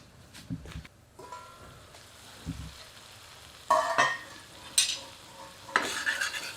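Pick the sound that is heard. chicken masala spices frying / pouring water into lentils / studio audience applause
chicken masala spices frying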